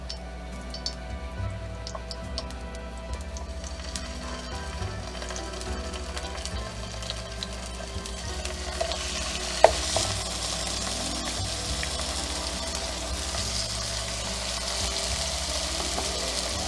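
Center-cut pork chops frying in a hot pan, a steady broadband sizzle under a low hum, with occasional ticks and a sharp clink near the middle as the frying grows slightly louder.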